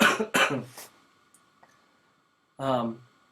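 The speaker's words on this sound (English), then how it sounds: "sorry, I'm going to cough" A few sharp coughs come in quick succession up close, then a pause and one more throaty cough.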